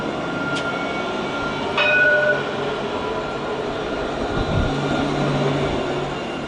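A tram in Nottingham rumbles past with a steady mechanical drone, a couple of brief high squeals early on, loud and near.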